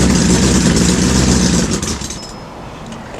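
A car engine running steadily while warming up to temperature, loud and close, a rough idling drone that eases slightly lower toward the end.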